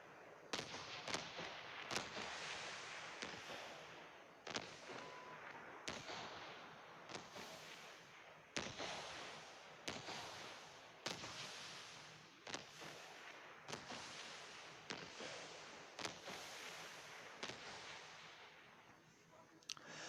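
Fireworks in the mobile game Fireworks Arcade: a rapid series of sharp, crackling bursts and pops, irregularly spaced, fairly quiet and continuous across the whole stretch with no talking.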